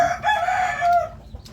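A chicken calls outdoors in a Thai home setting, a short, fairly loud crowing-like cluck with a wavering pitch, followed by a brief faint second call.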